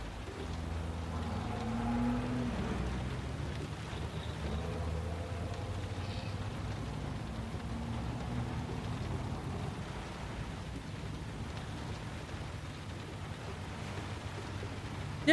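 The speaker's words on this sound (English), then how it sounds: "the rain sounds good" Steady rain in the video game Heavy Rain, a continuous even hiss with low rumbling undertones throughout, no voices over it.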